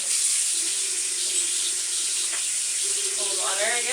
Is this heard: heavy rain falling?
no